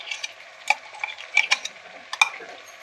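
Spice paste being stir-fried for chicken masala in a pan, quiet soft sizzling broken by intermittent scraping and clinking stirring strokes.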